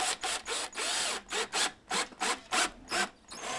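A self-tapping screw is driven into a metal door shield with a run of short, rhythmic grinding bursts separated by brief pauses, quiet and close.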